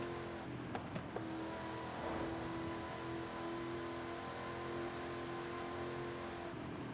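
A car's engine hums steadily while driving in the video game Forza Horizon 5, a continuous mid-pitched drone with a brief whine and faint clicks near the start.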